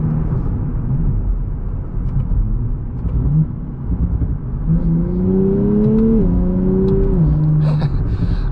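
A 2024 Nissan Z NISMO drives with a steady engine rumble, then accelerates through rising revs heard from inside the car, pitch climbing and stepping at gear changes.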